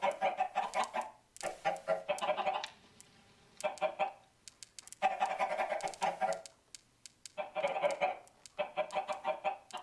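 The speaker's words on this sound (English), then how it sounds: "That's chickens right there." Chickens in the Star Wars: The Old Republic video game cluck in repeated bursts separated by short pauses, several birds clucking together and fairly close, with no talking.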